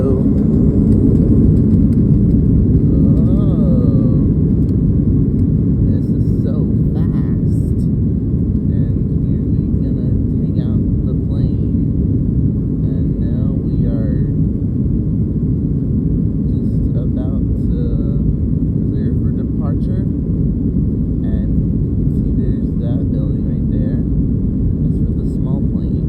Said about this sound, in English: And we're taking off right here at the runway.